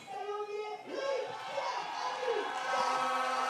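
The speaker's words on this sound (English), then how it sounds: "look at the crowd react to Vincent being in the lead" Crowd at the STIHL Timbersports French Pro Championship in Sarrebourg reacting as a competitor takes the lead, a broad murmur and rising cheers building steadily, with voices and commentary-like talk mixed over the noise.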